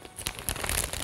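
A plastic piping bag rustles and crinkles in a couple of quick, close bursts as it is handled before being filled with caramel buttercream frosting.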